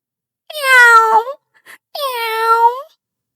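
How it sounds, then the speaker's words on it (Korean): A cat meows twice, clear and close, each call drawn out, with a tiny chirp between them and silence around. "고양이는 말없이 고개를 끄덕이며 부드럽고 조용한 소리로 울었어요"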